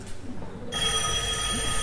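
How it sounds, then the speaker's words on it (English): A telephone rings at Bagshot House during a stage performance of the murder-mystery play Murdered to Death, a steady bell-like trill starting partway in and holding loud to the end after a quieter stretch of room noise. "That will be the phone."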